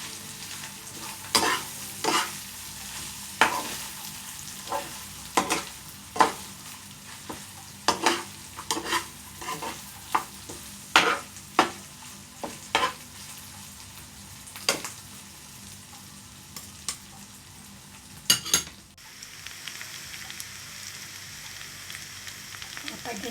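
Marinated chicken liver and gizzard fry in a pan under a steady crackling sizzle, with a spoon scraping and tapping against the pan in repeated sharp strokes.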